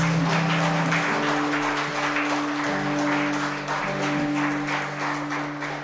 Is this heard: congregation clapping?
yes